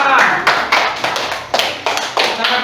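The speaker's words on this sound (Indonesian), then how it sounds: "bagus, tepuk tangan semuanya" A class of students in a coding training lesson claps together in a few separate bursts, each a sharp, close set of hand claps. A teacher's voice talks over them.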